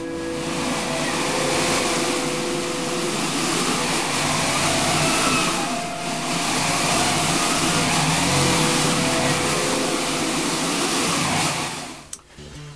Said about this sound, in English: you have this big barrel that then has a cloth draped over it, as you can see, and I turn the handle, it makes the sound effect of wind